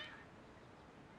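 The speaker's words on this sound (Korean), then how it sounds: "고양이들이 갑자기 널 적대시하는 것 같은데 어떻게 된 거야?" A cat in a video game quest lets out a single short meow at the very start, then quiet background tone follows. No one talks.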